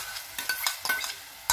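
Pureed tomato with ginger-garlic paste sautés in a pan for chana masala gravy, with a few quick scraping stirs over a light, close sizzle, and no voices.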